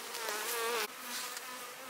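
Honey bees buzzing while their hives are being moved to a new bee yard, a dense, loud droning swarm hum with a sudden shift in pitch midway.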